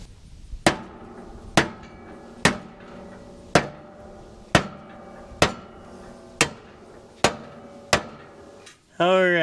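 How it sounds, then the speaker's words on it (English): A hammer strikes the nuts on a disc harrow, giving nine sharp metallic blows at a steady, evenly spaced rhythm, each one close and loud with a short ringing decay. A brief wavering screech follows at the end. "I can hit that with a hammer and try to loosen that up"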